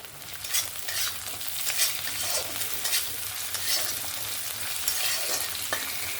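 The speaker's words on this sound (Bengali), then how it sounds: "টমেটোটা দিয়েও একবার নাড়াচাড়া করে দিলাম।" Thinly sliced tomato is stirred in a sizzling frying pan for a tilapia and potato curry. Repeated spatula scrapes ride over a continuous hiss, up close, with no voices.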